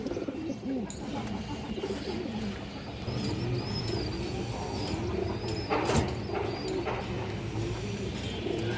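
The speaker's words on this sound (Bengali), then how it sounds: "দেখেন অনেক চঞ্চল কবুতর" Lively pigeons in a loft coo repeatedly in overlapping low warbles, close by, with a brief sharp clatter midway and a steady background murmur.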